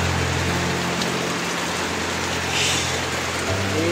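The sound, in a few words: heavy rain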